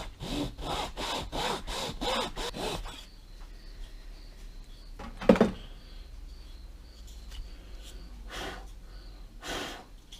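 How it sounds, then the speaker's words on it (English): Micro files rasp along the edges of a wooden perch swimbait lure in a quick series of close, dry strokes, then quiet with a loud bump and a few more later scrapes. "To really define all the edges, I'll go through with just some microfiles here."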